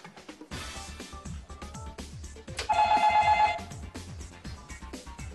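A telephone rings on a television comedy quiz stage as a contestant calls a friend for help, a bright steady ring lasting just under a second amid music and stage noise.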